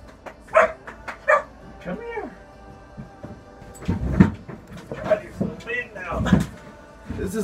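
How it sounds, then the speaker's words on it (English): A Great Pyrenees puppy gives a few short, high barks and yips nearby, interspersed with a person talking. "It's a Great Pyrenees"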